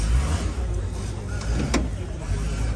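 A car engine idles steadily at an outdoor used-car market, a low continuous rumble with a brief sharp clatter partway through and voices nearby.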